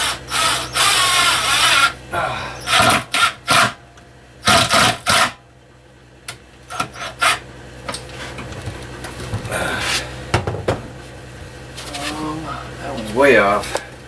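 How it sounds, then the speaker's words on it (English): A power drill bores through plywood in short bursts, whining up and stopping several times with pauses between, close by, with a person talking during the gaps. "Pre-drilling through the plywood is quite awkward."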